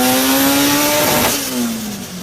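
A mini nitro RC four-cylinder engine, modeled on a Toyota 3S-GTE, revs loudly and close up, its pitch climbing in a sharp burst and then dropping off as it winds down.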